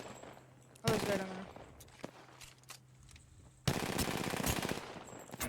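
Rapid bursts of pistol gunfire in the battle royale game Apex Legends, two loud dense stretches of shots with quieter game ambience and scattered single shots between them.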